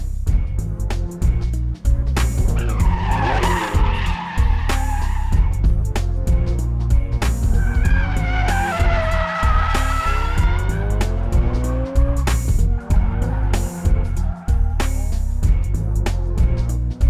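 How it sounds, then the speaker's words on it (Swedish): A converted Toyota MR2 drift car at a motor day event, tires squealing in long wavering screeches over a loud, revving engine, with repeated bursts of skidding close by. "Det här är nog den värsta driftingbil vi har här idag"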